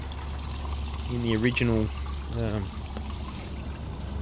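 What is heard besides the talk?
watering lettuce seedlings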